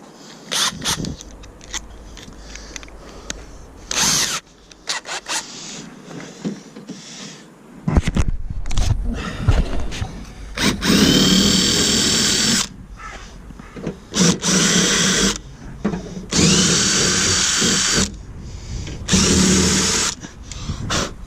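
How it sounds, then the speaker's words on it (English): Power drill boring into metal on a 2003 Porsche Cayenne Turbo during a window regulator repair, in several loud bursts of high whining grind, separated by short pauses and quieter handling noises. "To drill out a bit more."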